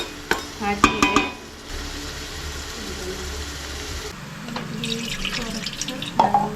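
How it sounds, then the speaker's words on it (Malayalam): Water being poured into a simmering crab curry, a steady splashing pour over sizzling with clinks and stirring scrapes of a spoon against the pot, close by. "കുറച്ച് വെള്ളം ഒഴിക്കുന്നുണ്ട്."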